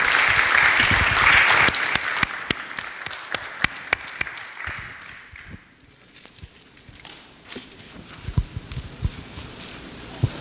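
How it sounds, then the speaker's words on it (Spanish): A church congregation claps loudly and steadily in praise, then the applause thins into scattered, uneven claps that fade toward the end. "Démosle palmas a nuestro Dios."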